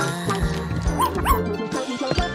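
A young puppy gives a run of short, high yips and whimpery barks, close and loud, several quick calls in an uneven burst.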